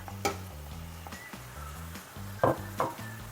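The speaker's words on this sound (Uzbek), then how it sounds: "Pomidorlarni solib aralashtiramiz." Chopped tomatoes go into a hot frying pan with oil and are stirred, giving a soft sizzle under a low background hum, with a few sharp clinks of a utensil against the pan.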